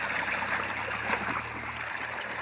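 Irrigation water gushes from a pipe into a farm field, a steady close rushing and trickling flow with no talking.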